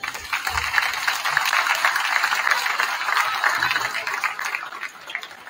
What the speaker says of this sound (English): one final round of applause for the 5 members of the class of 2024